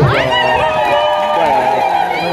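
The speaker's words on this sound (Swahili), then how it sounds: "Makofi mengi kwao." A crowd applauds and cheers loudly and steadily for a church choir after a live performance at a Catholic parish in Sumbawanga, with shouts and voices rising above the continuous clapping.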